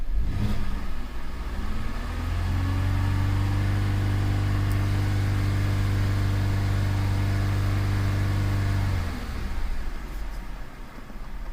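A 2008 Cadillac SRX 3.6L V6 AWD with a misfire drives along on a test drive, its engine a steady, loud droning hum that rises after a second or two, holds for several seconds, then fades.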